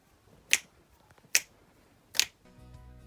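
Three crisp finger clicks, evenly spaced about a second apart, close and dry in a quiet room, followed by a low hum as a soft musical tone starts.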